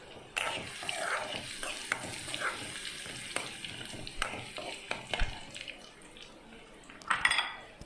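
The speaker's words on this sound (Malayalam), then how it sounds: "എന്നിട്ട് ബാക്കി വെളുത്തുള്ളിയും കൂടെ നമുക്ക് ഇട്ട് കൊടുക്കാം." Garlic frying in hot oil in a pan for mango pickle, with a steady soft sizzle under repeated clinks and scrapes of a spoon against the pan and a louder clatter near the end.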